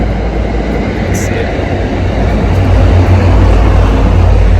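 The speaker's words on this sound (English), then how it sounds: "That's the commuter rail. The commuter rail runs through here." A commuter rail train runs through Wellington Station in Medford, Massachusetts without stopping, a loud, steady low rumble and roar that swells toward the end, close by.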